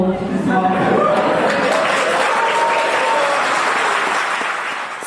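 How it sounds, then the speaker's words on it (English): Loud, sustained applause from campaigners at a welfare reform protest, dense clapping filling the whole stretch and easing slightly at the end, with some talk and voices mixed in near the start. "her speech gets plenty of applause"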